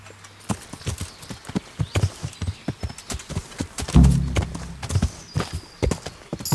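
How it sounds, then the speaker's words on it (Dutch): Rhythmic hoofbeats of a galloping horse in the video game Kingdom Come: Deliverance, quick and steady, with a snort midway through. "Snel mijn paard pakken."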